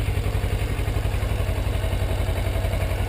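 A motorcycle engine runs with a steady low, pulsing thrum, close and continuous with no gaps, like a bike idling or pulling off gently on light throttle.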